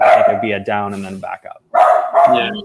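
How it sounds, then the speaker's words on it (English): A dog barks several times close by, its sharp yips and barks mixed with someone talking over them. "Sorry about the dog barking."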